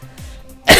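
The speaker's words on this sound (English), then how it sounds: "coughing sounds" A short, loud video game character's cough bursts out near the end after a quiet stretch, a single harsh throat-clearing hack.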